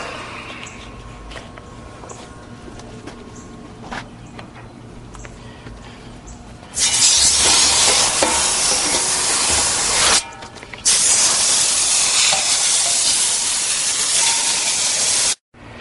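A garden hose sprays water through an air conditioner condenser, a loud, steady hissing rush that starts partway in, cuts out briefly, then resumes until near the end, with quieter background noise before it.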